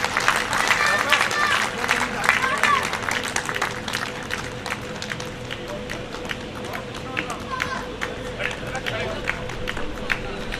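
A Hindi comic poetry gathering, a hasya kavi sammelan, breaks into loud, dense clapping that starts at full strength and then thins slightly while staying steady to the end.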